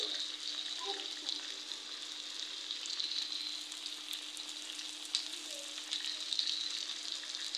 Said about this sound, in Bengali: এইভাবেই এগুলো বোনা করুম, আস্তে আস্তে ভাজা ভাজা করুম